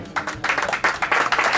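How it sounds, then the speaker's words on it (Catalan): A live audience claps for a guitarist at a student combo jam session, with brisk, uneven claps from a modest crowd that swell and continue without a break. "un aplaudiment per ell"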